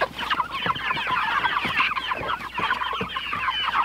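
Meat chickens raised on pasture cluck and chatter continuously at close range, with many overlapping short calls and no talking.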